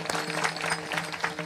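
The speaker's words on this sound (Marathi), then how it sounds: "पुरुष मंडळीसाठी एकदा जोरात टाळी वाजवा सगळ्यांनी" An audience claps at a Marathi Warkari kirtan, a steady patter of many hands close by that goes on throughout without a pause.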